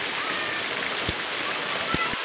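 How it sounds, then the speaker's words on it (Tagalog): Shower water pouring steadily at Balite Falls, a continuous broad rushing splash with a few brief heavier splats near the end, close and loud. "So ito yung pinaka-shower nila."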